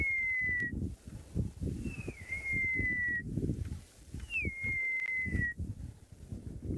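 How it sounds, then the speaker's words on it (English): Francolin chicks call in repeated high, thin whistles, each a sustained tone with a slight dip, sounding faintly over a louder rumbling background. "Very faintly in the background I can hear the sounds of baby Franklins calling their mums."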